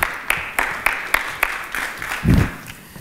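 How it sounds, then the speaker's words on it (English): Small conference audience giving a slow, sparse round of claps for app developers, about ten evenly spaced claps at a steady beat, with a brief voice near the end. "can we give them a bit of a clap?"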